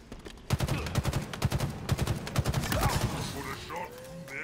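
Rapid bursts of gunfire from Halo Infinite, a dense run of sharp shots in quick rhythm, loud and close, fading into lighter game sounds near the end.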